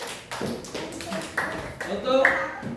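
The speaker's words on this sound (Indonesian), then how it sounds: "tepuk tangan untuk kelompok Penus" Classroom audience clapping for a student group presentation, a handful of irregular hand claps mixed with voices talking close by.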